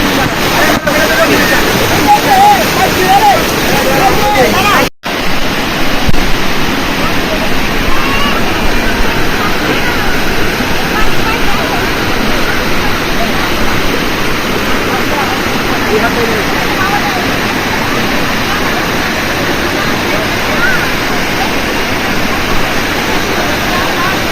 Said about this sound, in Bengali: আপনাদের মায়াবী ঝর্ণা দেখালাম